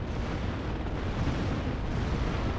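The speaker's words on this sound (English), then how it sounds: "Seeing a lot of explosions going on here." Dense explosions and artillery rumble from the real-time strategy video game Warno, with an AH-64 helicopter engaging infantry, form a steady roar of heavy booms with no pauses.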